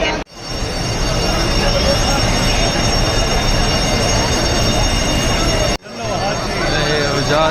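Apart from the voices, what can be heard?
Hajj pilgrims' train at Arafat-Muzdalifah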